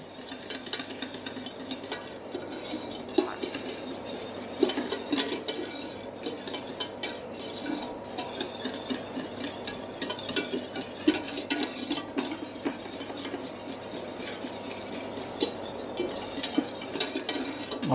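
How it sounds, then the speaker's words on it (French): Chocolate melting in a bain-marie at about 50 degrees, stirred continuously with a utensil that clinks and scrapes against the bowl, a steady close-up rhythm with no talking. "Alors, toujours bien remuer, sinon ça coagule."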